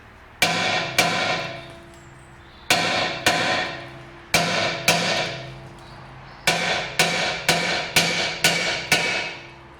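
A hammer repeatedly strikes a car's rear brake disc to free it, loud close metallic clangs in spaced groups with ringing decay, first single hits then a quicker run of five.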